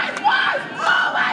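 Protesters chant and yell a rallying cry at the gates of the Gabba cricket ground in Brisbane on Australia Day, two loud, surging bursts of massed voices close by.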